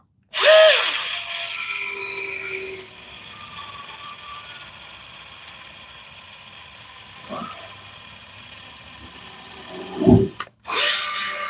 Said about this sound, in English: I love this Milwaukee. The seam seal gun is so good.